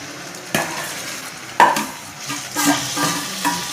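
Chicken sizzles frying in hot oil, with a few sharp clanks and scrapes of a utensil stirring the pan; no one speaks.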